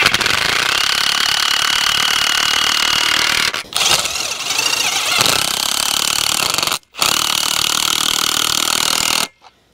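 A power driver sinks a small lag screw into a pilot hole while a garden hose reel is mounted, a loud, close, continuous buzzing whir that briefly cuts out twice before stopping.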